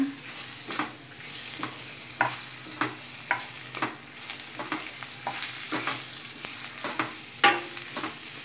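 Mutton curry masala with tomatoes being stirred in a pan, a spoon scraping and knocking in repeated strokes over a steady low sizzle, close and moderately loud.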